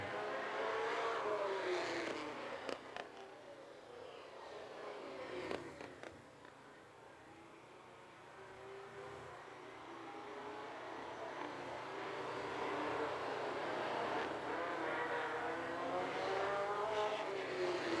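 Vintage race cars at Lake Mills roar past at a distance, engine drone swelling and fading as the cars pass, then building again toward the end.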